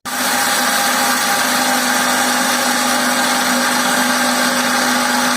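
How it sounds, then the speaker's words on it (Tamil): Mixer grinder grinding green gram into flour, a loud steady motor whine starting abruptly and running without pause. "இதை போய் இப்போ அரைச்சி கொண்டு வரோம்"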